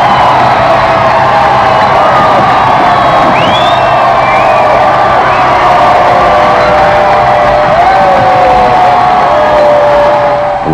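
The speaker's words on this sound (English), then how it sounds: "The huge, cheerful crowd that has waited so long and patiently roars and waves its welcome." A huge, cheerful crowd roars and cheers in welcome at the 1981 royal wedding, a loud, sustained wall of voices with scattered whoops and shouts rising above the din.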